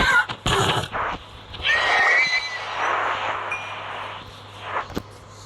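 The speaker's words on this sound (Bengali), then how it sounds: "এই ঘোড়াটাকেও মারতেছি তারা।" A horse in the video game Minecraft whinnies loudly with a drawn-out neigh, preceded by sharp clicks and game noises, close and clear without talk.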